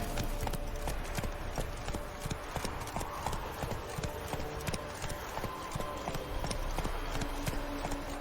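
Horse hooves gallop in fast, steady clip-clop beats for Roach, the horse in The Witcher video game, with game music and ambience underneath throughout.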